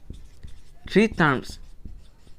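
A pen scratches and taps on paper while solving a maths polynomial problem, with soft, intermittent strokes and a brief spoken phrase in the middle.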